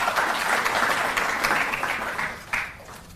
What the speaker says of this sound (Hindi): मेरा अनुरोध एक बार जोरदार तालियों से आप उनका अभिनंदन करें